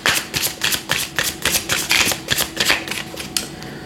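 Tarot cards are shuffled by hand, a quick close rhythm of papery riffles and soft slaps repeating about twice a second with no talking.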